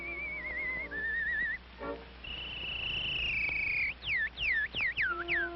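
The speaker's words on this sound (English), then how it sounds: "and even Sybil Sanderson Fagan, the whistling artist." Artistic whistling by a whistling artist on an early Edison recording: a long wavering held note, then a series of quick swooping chirps and trills over faint surface hiss.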